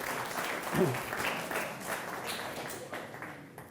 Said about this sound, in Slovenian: dajte aplavz temu človeku še enkrat